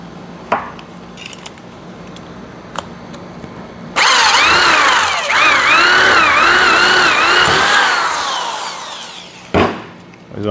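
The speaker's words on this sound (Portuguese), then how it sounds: "furar do outro lado" Power drill boring through a wind generator prototype, a loud sustained whine with rising and falling pitch sweeps lasting several seconds, preceded and followed by quieter handling knocks.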